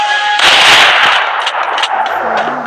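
Gunfire in the Free Fire video game: a loud, dense burst of rapid shots lasting a couple of seconds, close and dominant, with the game's sounds ringing out behind it.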